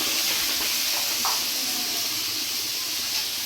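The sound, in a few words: tomatoes and peas sautéing with cabbage in a pan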